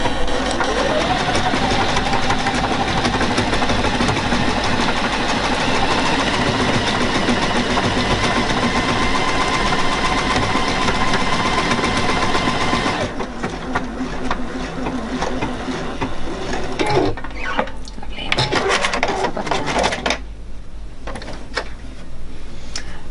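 A Juki DX7 computerized sewing machine stitches double-stitched lettering in a steady, close mechanical whir that runs continuously, then drops off partway through into softer intermittent motor sounds and clicks.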